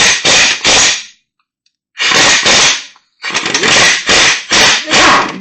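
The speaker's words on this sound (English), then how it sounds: "we'll go get an air impact and a 27 millimeter" An air impact wrench loosens a 27 mm nut on a Kawasaki Ninja H2 in a repair shop, firing loud close rattling bursts in three groups separated by short silent gaps.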